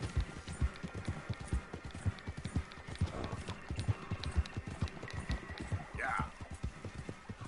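A horse gallops in Red Dead Redemption 2, steady rhythmic hoofbeats clip-clopping close up for the whole stretch, with a short whinny-like cry near the end and someone talking over it at times.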